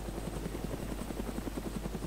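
A helicopter in the DayZ video game thrums steadily and close, its rotor chop dense and continuous throughout.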